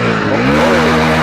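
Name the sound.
Hero HF 100cc motorcycle engine running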